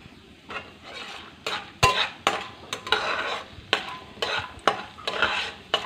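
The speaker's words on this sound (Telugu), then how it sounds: "వీటిని వేయించి వేరే బౌల్లో తీసేసుకున్నాము." Urad dal and peanuts stir-fried in a pan, with a utensil repeatedly scraping and clinking against the metal over a soft sizzle, irregular strokes close by and no talking.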